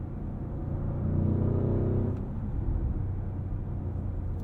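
A 2022 Audi SQ7 with a V8 engine rumbles steadily from inside the cabin. Engine and exhaust drone rises slightly, then eases off into a softer overrun burble that continues at a lower level.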